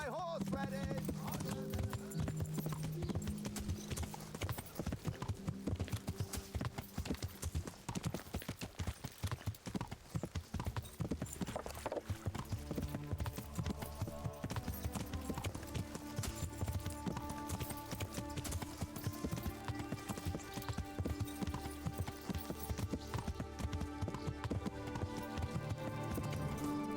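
Horse hooves clip-clop steadily during a ride in the medieval video game Kingdom Come: Deliverance, mixed in with an ongoing music score and game ambience.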